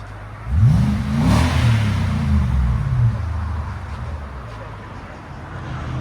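Close, loud single rev of a Nissan Armada 5.6L V8 through a Flowmaster Super 10 exhaust, climbing quickly, holding briefly, then easing down into a low rumbling idle that continues to the end.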